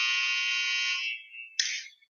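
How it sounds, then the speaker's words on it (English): Game clock buzzer at an indoor hurling match, a loud electronic tone held for about a second, then fading, followed by a shorter second blast in an otherwise quiet space. "I like to set the clock with about 2 minutes before we hear the buzzer"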